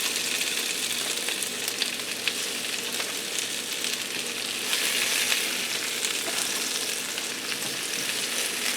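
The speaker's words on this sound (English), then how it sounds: "we're going to finish cooking them through in our onion gravy" Salisbury steaks cooking in onion gravy in a pan give a loud, steady, close sizzle and bubbling hiss that holds without a break throughout.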